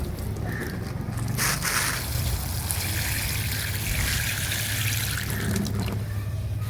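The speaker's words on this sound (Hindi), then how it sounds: "और फिर इसमें हम पानी लगाएंगे" Water is poured steadily into a deep pot of freshly sown adenium seeds, giving a continuous close trickling and splashing that lasts the whole stretch with no talk.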